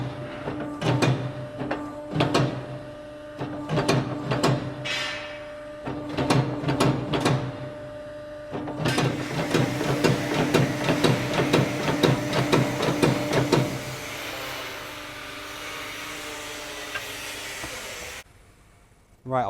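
A hydraulic forging press works a steel bar into a pin with quick repeated up-and-down strokes, a run of rhythmic hissing pulses over a steady hum, then continuous hiss before a sudden stop.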